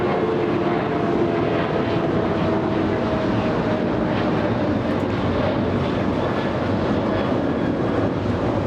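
A Southwest airliner rolls on the runway at LAX, giving a steady, loud jet engine roar that holds evenly throughout with no voices over it.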